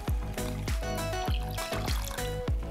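Water poured into a small saucepan with sugar to start orange syrup for a Greek orange pie, heard as a close, soft run of splashing and trickling with repeated little pours.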